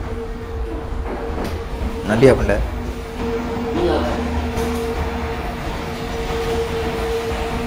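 A passing train on the opposite track in Microsoft Train Simulator rumbles past at mid-distance with a brief louder swell of wheel noise, under steady cab hum and a voice talking over it.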